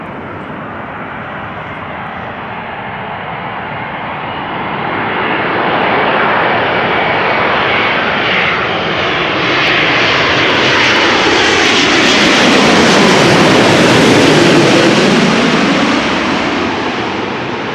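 A TUI Boeing 787 Dreamliner lands at Amsterdam Schiphol, its loud jet roar sweeping in and swelling as it passes close overhead, then slowly fading with a broad rushing rumble.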